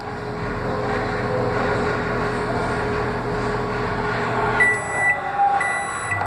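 A microwave oven hums steadily while an egg fries inside it, a continuous droning whir close to the mic, ending with a couple of high electronic beeps.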